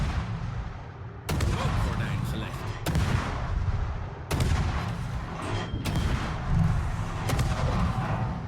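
Heavy ship guns fire in World of Warships from a Tier 9 Dutch destroyer. Several loud, booming salvos come at irregular intervals over a constant rumbling background of sea and engine.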